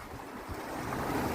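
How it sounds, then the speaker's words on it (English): Open-ocean waves washing past a small trailer sailer under way off the Great Barrier Reef, a steady broadband rush building slightly louder over its length, mixed with wind buffeting the microphone and no voices. "we're out in the open ocean"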